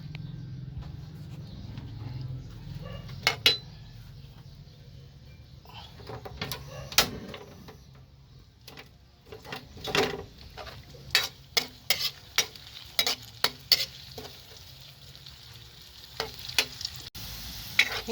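Garlic and onion sizzle in a pan for monggo with pork, a steady frying hiss broken by sharp spatula scrapes and clacks that come thicker and quicker toward the end.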